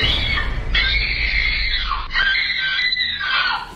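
A loud, sustained high-pitched scream from a horror video game, rising and falling over several seconds with brief breaks, heard close and alone without talk.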